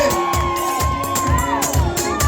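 Several women ulululate loudly at a lively gathering, high warbling trills rising and falling in repeated bursts close by, with crowd noise and cheering mixed in.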